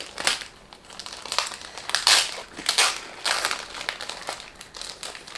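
Plastic bag from a quilt kit package being opened, giving loud close crinkling and crushing bursts in an irregular rhythm for several seconds, with no talking.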